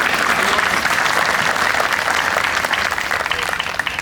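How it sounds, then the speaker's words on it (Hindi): Loud, dense applause from an audience at an Independence Day celebration, a steady wash of clapping that holds throughout and eases slightly near the end. "जोरदार आप तालियां बजाएं"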